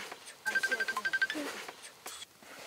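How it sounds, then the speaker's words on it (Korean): A telephone ringing in a household in northern Mongolia in winter, a quick burst of rapid repeating electronic trill pulses, moderately loud, with a voice speaking around it. "그때 전화벨이 울린다."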